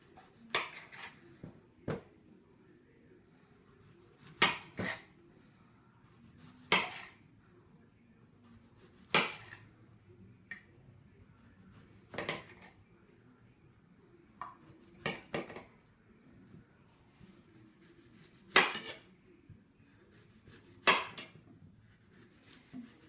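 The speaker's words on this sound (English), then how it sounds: "the plantains, you have to cut them in a slanted medium size" Knife chopping plantains into slanted medium pieces against a board, a series of sharp close knocks and clicks spaced a second or two apart with quiet between, no talking.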